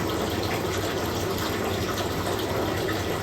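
Water gushes steadily for drinking, a continuous loud, close rushing and splashing with no pauses and no voices.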